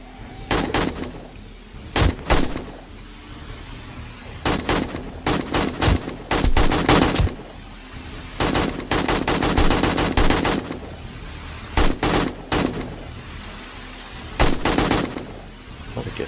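AK rifle gunfire in the video game 7 Days to Die during a horde night, loud repeated bursts of automatic fire, some short and some sustained, separated by brief quieter gaps.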